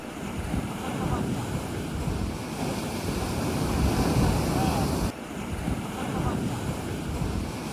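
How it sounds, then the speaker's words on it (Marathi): Sea waves break and wash onto the shore beside the Harihareshwar temple coast, a continuous loud roar of surf mixed with wind buffeting the microphone. "फेसळणाऱ्या समुद्राच्या लाटा आणि त्या लाटांचा नाद आपल्या कानात घुमू लागतो"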